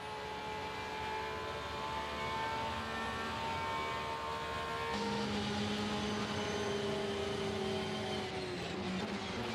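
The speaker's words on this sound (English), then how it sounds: "Let's have a listen to the engine note" Race car engine in the Le Mans Virtual racing game, a steady high whining drone with a shift in pitch partway through, heard alone at a moderate distance.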